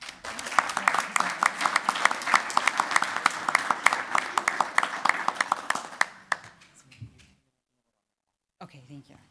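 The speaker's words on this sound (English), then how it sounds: "Please give her a round of applause." A public forum audience gives a dense burst of applause for a candidate that fades out after about six seconds, followed by a brief silence and then a voice speaking.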